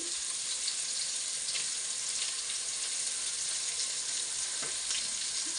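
Fish pieces sizzle in hot oil in a frying pan while being stirred, a continuous, even crackling hiss at moderate distance with no talking.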